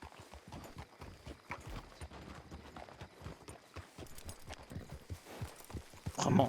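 A horse's hooves clip-clop at a steady walking rhythm in the Red Dead video game, quiet and close, with a brief louder burst right at the end.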